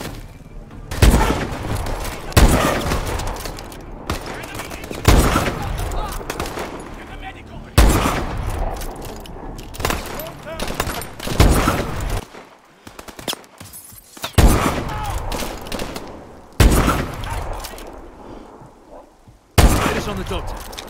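Gunfire in the video game Call of Duty Advanced Warfare, loud repeated bursts of shots and heavy impacts at irregular intervals, with voices talking between them.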